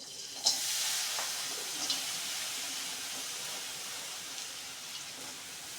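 Half a bowl of grated jaggery melts in a pan for crispy jaggery makhana, giving a steady, soft sizzling hiss with a few faint clicks of stirring and no talk.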